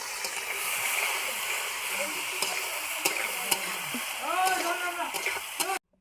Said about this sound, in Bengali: আগে নারকেলটা ভেজে নেব।